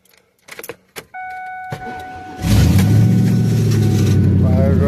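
A car engine that has been sitting on a battery charger cranks briefly with a whine and then fires up into a loud, steady idle close by, after some jangling and clicks.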